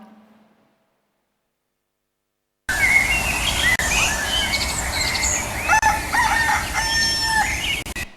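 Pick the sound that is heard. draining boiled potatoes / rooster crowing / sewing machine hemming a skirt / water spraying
rooster crowing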